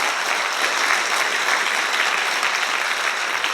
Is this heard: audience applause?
yes